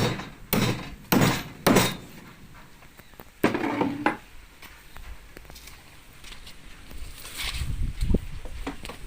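Hammering nails into a fiberglass boat's engine mount: several sharp, fairly close metallic strikes spaced irregularly, with quieter knocks and handling noise between them.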